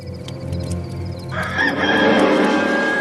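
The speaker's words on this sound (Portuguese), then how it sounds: "Na mesma hora, o galo cantou." A single rooster crows loudly partway through, its call rising over a low, steady background hum, heard during a dramatized reading of the Passion of Christ.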